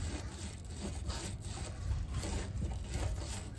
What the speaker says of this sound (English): This is a stiff bristle brush, just cleaning out the threads.